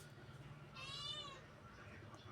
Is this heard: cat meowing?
yes